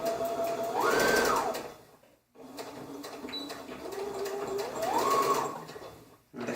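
A sewing machine stitches a shirt seam in two close, steady bursts that each rise in speed and then slow, with a brief pause between them.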